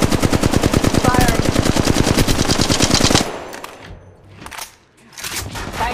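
Rapid, loud machine gun fire in the Apex Legends video game, a sustained burst of evenly spaced shots lasting about three seconds, then quieter scattered gunfire and movement sounds.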